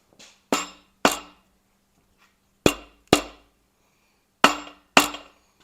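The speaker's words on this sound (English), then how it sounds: "Take a rubber hammer," Rubber hammer tapping the crankshaft of a small-block engine during a main bearing check: six sharp, ringing knocks in three spaced pairs, close and clear with short metallic decay and quiet gaps between.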